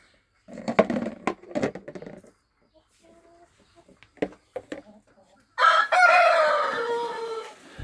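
Hens cluck and murmur close by in a coop, with scattered knocks and shuffling, then a loud rooster crow breaks in and carries to the end.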